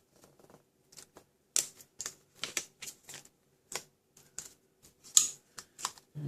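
Washi tape being trimmed on a handmade birthday card, a series of short sharp snips and clicks at an irregular pace, close and quiet with no talk.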